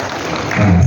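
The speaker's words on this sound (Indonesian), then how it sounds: "Kasih tepuk tangan dulu buat Bapak." Applause from an audience at a community gathering with religious and traditional leaders in Palu, Central Sulawesi, rising from a steady noisy wash to a louder, fuller burst in the last half-second.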